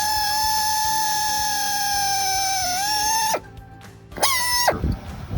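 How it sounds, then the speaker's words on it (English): A drill bores into a manifold bolt hole in preparation for tapping, a steady high-pitched whine that dips slightly, cuts out, then briefly resumes with squealing harmonics before stopping. "he's drilled a hole to pre-tap it"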